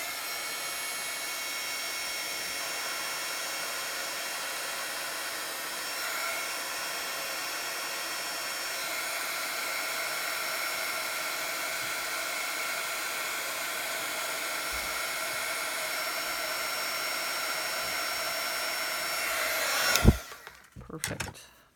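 A heat tool blows steadily on paper craft pieces for over twenty seconds, a constant airy whine at moderate level, ending with a few handling knocks as it shuts off.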